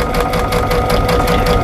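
A sewing machine runs fast and steady, stitching a quarter inch seam with a dense, even mechanical whir and rapid needle rhythm, loud and close throughout with no talking.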